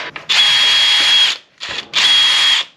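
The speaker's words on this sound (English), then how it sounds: "drill right through that aluminum quite easily" Power drill boring through aluminum, likely sheet from an RV door: two sustained high-pitched whining bursts of about a second each, close and loud, separated by a brief pause with short starts before each.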